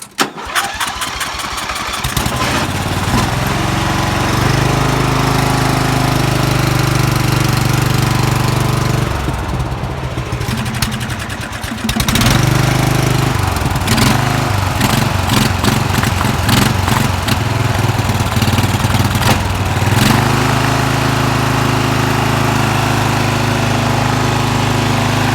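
Two Murray lawn mower engines cold start, with a brief crank catching into a loud, steady running drone that stutters and surges midway, then settles into continuous uneven running.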